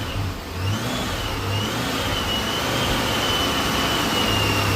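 A 2004 Mystichrome Cobra engine runs on all cylinders and revs, a loud, close, steady mechanical roar with rising and falling pitch and no voices.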